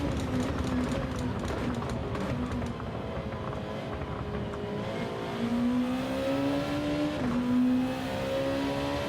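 Race car engines in Gran Turismo 7, a steady high revving drone that climbs and dips through gear changes, loud and continuous with another car nearby, a voice talking quietly underneath.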